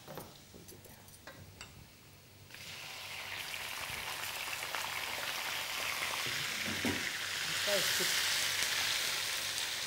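Garlic sizzles and crackles in hot oil for black pepper chicken, quiet at first, then a louder, steady frying hiss that builds and holds.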